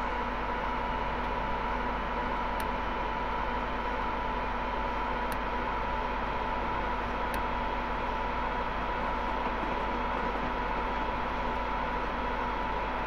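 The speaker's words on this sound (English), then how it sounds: "I'm going to try to bring this train up to some reasonable amount of speed" Steady broadband rumble and hum inside a train accelerating on the West Coast Main Line, constant and unbroken with a few faint clicks, no voices.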